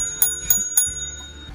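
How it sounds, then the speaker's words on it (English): A small vintage hand-painted front desk bell is struck three times in a steady rhythm, each bright, close ring sustaining and overlapping the next before fading, with no talk. "front desk bell. I wish I could ring it for you right now."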